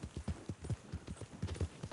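Horse hooves clip-clop at a steady walking rhythm in the video game Red Dead Redemption II, a soft, muffled series of repeated thuds with no talk over them.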